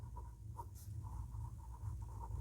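A pen scratching on paper while writing a maths expression: faint, soft strokes in quick irregular bursts over low background hum.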